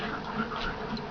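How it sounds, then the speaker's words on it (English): A dog snapping and whimpering at close range, a continuous strained whine with short yips, fairly loud and unbroken over a noisy background. "Snapping in my face is not cool, dog."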